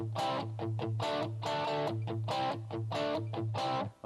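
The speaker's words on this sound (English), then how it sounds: "Okay, that's my rhythm guitar sound." Dry British high-gain distorted electric guitar playing a rhythm part with little or no reverb, chugging chords in a steady repeating pattern, loud and close and heard alone.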